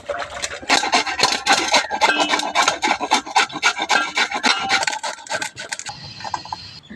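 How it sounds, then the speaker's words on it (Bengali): Raw papaya rasped against a hand grater for chutney, a rapid run of close, scratchy strokes in a steady rhythm that stops for a brief pause near the end. "তাই আজকে আবার ঘষে দিয়ে পেঁপের চাটনি করবো"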